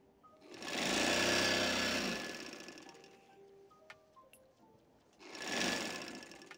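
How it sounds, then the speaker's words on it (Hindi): A sewing machine stitches a trouser seam in two runs: a steady, loud mechanical whirr for about two seconds that slows and fades, a quiet pause with small clicks, then a second short burst near the end. "इस तरह खींच के आपने दरमियान में लास्ट के दरमियान में सिलाई लगानी है।"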